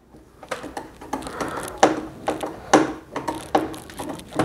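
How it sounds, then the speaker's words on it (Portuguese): Screw with a washer being tightened onto a steel monitor mount, a rapid series of sharp ratcheting clicks in quick bursts, close and fairly loud with no talking. "Primeiro eu vou estar fixando ele com um dos parafusos"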